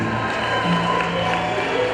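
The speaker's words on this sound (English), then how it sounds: "Half the crowd was assigned to cheer for Gainesville." A basketball crowd of fans cheering in an indoor gym, a steady dense wash of shouts, whoops and cheers at moderate loudness that carries throughout without a break.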